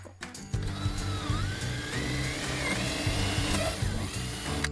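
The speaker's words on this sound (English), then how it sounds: "I'm just gonna drill a hole to get started in a corner" Power drill boring a starter hole in the corner of a chicken coop wall, a steady ratcheting whir with a rising and falling pitch that runs for several seconds, close and fairly loud, no talk.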